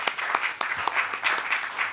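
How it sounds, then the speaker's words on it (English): Applause for a panel of speakers, a modest crowd clapping in a loose, uneven patter with some individual claps standing out, fairly near and medium in volume. "A big round of applause for these wonderful speakers."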